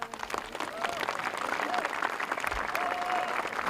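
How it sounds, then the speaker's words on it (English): Graduates at a college commencement applaud their loved ones and friends in a steady, full burst of crowd clapping, with voices and whoops mixed into the applause. "a round of applause"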